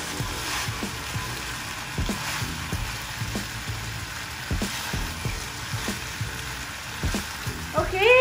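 Paneer Maggi noodles being stirred in a frying pan, a steady low sizzle broken by irregular scraping and tapping strokes of the spoon against the pan, fairly close and moderately quiet.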